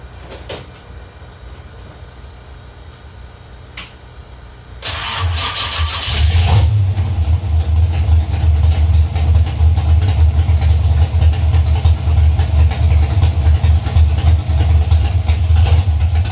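After a quiet stretch with faint clicks, a car engine with a freshly adjusted carburetor secondary accelerator pump bursts into a loud rev around the fifth second, then holds a strong, steady roar up close until the end.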